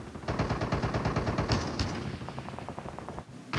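Gunfire in a Call of Duty match, with a rapid run of sharp, loud shots in the first half, then a lighter string of repeated shots after, all close and without talk.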